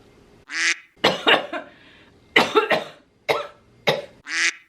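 A person coughs close to the microphone after drinking chocolate milk, with about six sharp, harsh bursts in an uneven rhythm separated by short quiet gaps.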